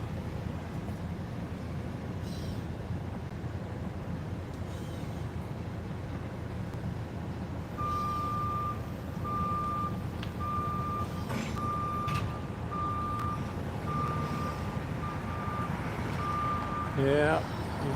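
A small truck's reversing alarm beeps in a steady, evenly spaced series for about ten seconds, moderately distant over a constant low rumble of engine and outdoor noise.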